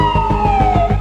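A loud wailing ambulance siren on a New York City street sweeps downward in pitch, close by, with a rhythmic pulsing engine-like throb underneath for the whole short burst.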